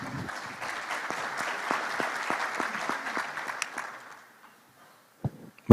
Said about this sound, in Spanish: Así que muchísimas gracias y un aplauso.